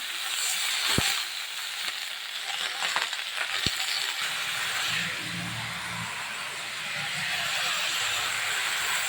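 Vegetables fry with a hilsa fish head in a pan for a Malabar spinach dish, giving a steady close hiss of sizzling oil, broken by a couple of sharp utensil clinks against the pan while stirring.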